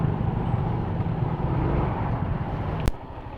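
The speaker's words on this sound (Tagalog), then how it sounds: "Traffic lang talaga dito sa area na to." Steady street traffic rumble around a motorcycle delivery rider in congested city streets, a dense continuous low engine drone with a sharp brief click near the end.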